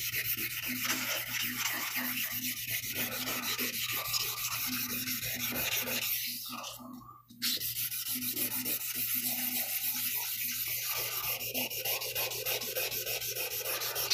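Steady back-and-forth rubbing of a sharpening stone being flattened against a 320 grit prep stone, a continuous scraping grind that carries on without pause apart from a brief break midway.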